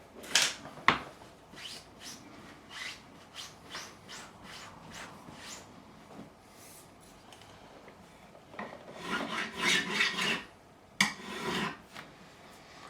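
A file rasps along the fretboard of a Fender Stratocaster neck, a series of close, crisp scraping strokes in uneven rhythm, some quick and light, others longer and grittier near the end.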